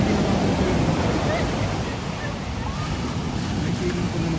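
Strong ocean waves roll in at the beach of Puerto de San Juan beach resort, a dense, steady roar of surf with some wind buffeting the microphone, loud and close throughout.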